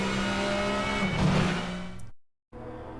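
Onboard engine sound from a touring car in the 2000 World Touring Car Series at Donington Park, loud and close as it revs through a pass, cutting out for a moment before resuming.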